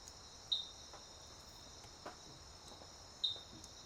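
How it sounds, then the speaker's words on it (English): Twilight frogs in the video game Signs of Life give two sharp, high chirping pops at night, spaced a few seconds apart over a steady high insect-like drone. "there's places where you hear these little chimping frogs, these little pops"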